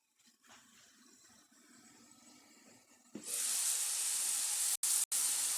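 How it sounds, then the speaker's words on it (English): Quiet low rumble, then a sudden loud steady hiss of something sizzling in a pan, broken by two brief gaps near the end. "Hope y'all can hear the sizzling"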